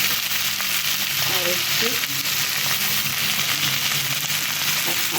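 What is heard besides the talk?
meat being stirred and fried in a pan with chilli powder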